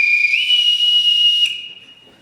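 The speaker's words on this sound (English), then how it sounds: "they have been taught to only come when they hear their whistle" A single loud, shrill signal whistle, the kind blown to call children, sounds one long steady blast that breaks off abruptly and leaves near silence.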